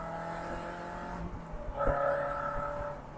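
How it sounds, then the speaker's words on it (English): A car engine revs up through its exhaust, a rough low growl swelling and settling, with a tonal whine rising midway. "Oh man, I love that exhaust"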